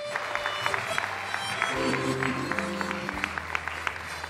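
An audience applauds a sports team called to the stage at a municipal sports laureate award ceremony in Latvia: sustained, even clapping from a crowd over a faint tonal background, with a few voices mixed in.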